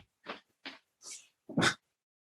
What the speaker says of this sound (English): Why you bark? Oh, this dog, I swear to God.